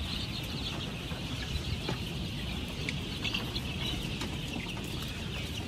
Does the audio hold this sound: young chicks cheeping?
yes